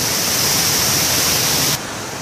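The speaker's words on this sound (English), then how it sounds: "I'm trying to talk over the river sound." Loud, steady broadband rush of a river at a lunch spot along its bank, filling the whole clip without a break and dropping slightly in level near the end.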